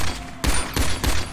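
Video game gunfire: three heavy, punchy shots about a third of a second apart after a brief lead-in, loud and close with no talking.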